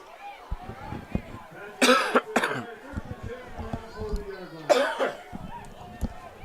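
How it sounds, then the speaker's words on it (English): A sports commentator at a high school varsity football game coughs hard and clears his throat in two loud bursts, with quieter talk and ambient noise between them. "as I have a little coughing fit"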